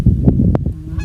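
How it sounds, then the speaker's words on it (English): Geese honking by a lake in the evening, a few loud nearby honks over a busy, noisy background of flock calls. "we have like 100 of geese in our lake"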